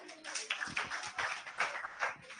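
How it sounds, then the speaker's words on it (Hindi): A small group claps for a madam at a Hindi class test session, a faint, uneven patter of hands in loose bursts, fairly distant and quiet. "ताली बजाओ मैडम के लिए।"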